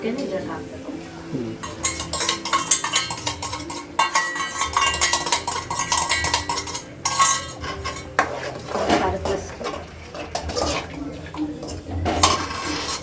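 Eggs poured into a pan and stirred, with a metal spoon scraping and clinking against the cookware in uneven bursts of clatter throughout.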